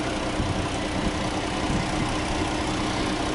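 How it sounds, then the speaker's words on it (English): A Jeep Cherokee Limited 4x4 engine idling smoothly, a steady low rumble with dense broadband noise, close and even throughout. "Nice smooth running engine."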